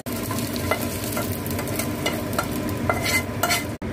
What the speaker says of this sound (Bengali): আমার ফোড়নটা হয়ে গেছে, এবার এতে আমি ঢেলে দেবো।